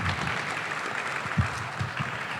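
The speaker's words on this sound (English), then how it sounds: "please give him a round of applause." A live audience applauds at an indoor summer event, a steady wash of clapping spread evenly across a couple of seconds with no voices standing out.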